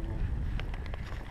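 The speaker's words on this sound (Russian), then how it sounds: "Да, ветер, конечно." Steady wind blows outdoors at a family camp with a tipi, rumbling and buffeting the microphone in a continuous, fairly loud roar with no clear gaps.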